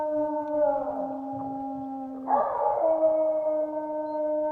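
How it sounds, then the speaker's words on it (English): Wolves in a survival video game howl in long, tonal, overlapping calls, one voice fading as another starts a fresh howl partway through, fairly close over a quiet background. "They got wolves inside my house."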